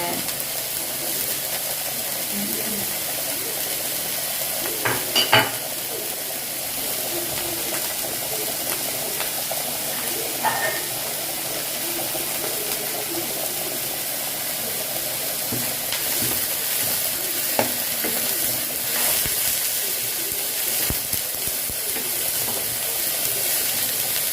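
Onions and curry leaves sauté in a pan with a continuous broad hiss and sizzle, a few faint clinks of stirring scattered through, and no clear voice.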